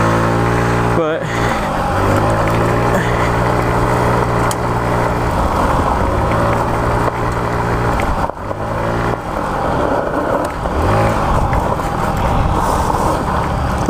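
Small motorbike riding over loose gravel with a steady engine drone, the rear tyre skidding and sliding under hard braking; loud and continuous with crunching grit throughout.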